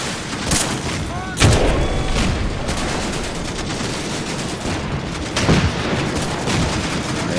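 Grenade blasts and gunfire in a military video game battle with a rifle platoon, mortars deploying; sharp booms at the start and near the end over a continuous crackle of distant shots.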